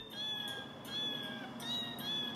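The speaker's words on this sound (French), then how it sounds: "Une musique chantée par les chats." Cats meowing in a tune of cat-voice music heard on a street in a Taipei suburb, Taiwan, with several bright high meows in a repeating rhythm over a steady background hum.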